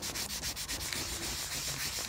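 A cloth wiping sticker residue off the plastic casing of a Sony MZ-N710 Minidisc Walkman with multi-surface cleaner, a close, continuous rubbing and scrubbing with quick back-and-forth strokes.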